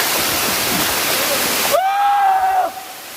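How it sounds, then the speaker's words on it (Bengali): Ham Ham waterfall in a deep forest rushes as a loud, steady broadband roar, then cuts abruptly to a quieter scene where a sustained tonal whistle-like sound holds for about a second before fading. "ও ভাই, ঝর্ণার আওয়াজ একদম"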